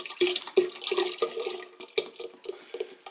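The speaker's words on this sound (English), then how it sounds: "we're going to try and get all of that last remaining liquid into our brew here" Leftover liquid is poured into a home-brewed IPA batch, a close, gurgling trickle with repeated glugs and splashes over about three seconds.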